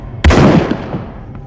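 A single gunshot in The Persistence PSVR game fires as one loud, sharp blast that rings out and decays over about a second, close and alone, with no talking.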